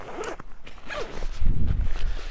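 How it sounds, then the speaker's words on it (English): An Eberlestock backpack zipper is pulled in several quick, rasping strokes up close, followed by rustling and handling of fabric. "me zip it up"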